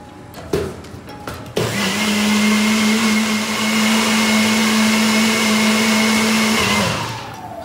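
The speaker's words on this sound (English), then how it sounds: "So we'll blitz this for a couple of seconds." A blender whirs as it blitzes tofu paste with sesame oil: a loud, steady motor drone starts abruptly after a few clicks, holds for about five seconds, then winds down.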